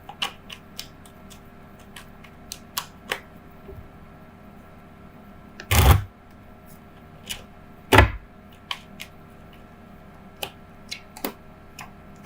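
Gypsy Oracle cards are handled and shuffled at a table, giving scattered light ticks and flicks with two louder bursts of riffling, and no voices.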